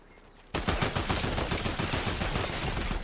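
Sustained gunfire erupts in a Fortnite match after a half-second lull, a loud, dense barrage of rapid shots continuing without pause to the end.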